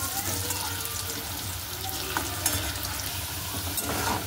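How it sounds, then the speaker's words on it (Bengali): Potato pieces frying in a pan with salt and turmeric give a steady, close sizzle with occasional stirring scrapes, fairly loud and unbroken, with no talk over it. "এটা একটু নুন হলুদ দিয়ে ভাজা ভাজা করে নিই ভালো করে।"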